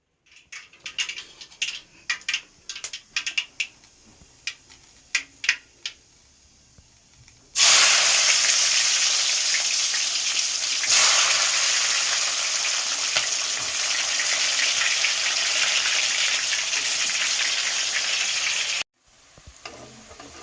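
Mustard seeds crackle and pop in hot oil, sparse sharp snaps at first, then a loud, dense, steady sizzle and spluttering close up that cuts off abruptly near the end.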